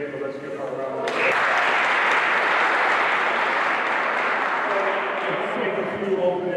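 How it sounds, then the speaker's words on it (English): A crowd at a political event applauds for the mayor of Mount Vernon, loud sustained clapping swelling in and holding steady for several seconds, with voices underneath at the start. "let's give her a round of applause"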